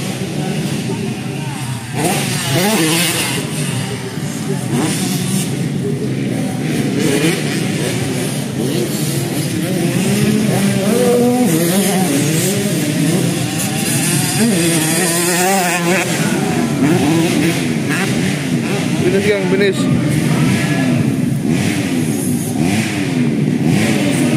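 Several motocross bikes, including MX 85 class, rev and whine continuously while racing, rising and falling as they pass, loud and close, with a voice talking over the racket.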